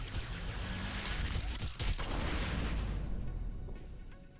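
A loud, sustained blast from an explosion in the video game Heroes of the Storm, booming heavily for about four seconds with a sharper burst midway before tapering off near the end.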